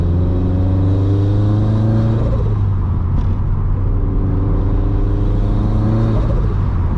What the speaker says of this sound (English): this is a Turbo Smart blow-off valve